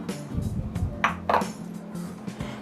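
Ghee and cornflour paste for chirote is beaten in a bowl, with close scraping and repeated clinks of a utensil against the bowl, fairly loud and irregular.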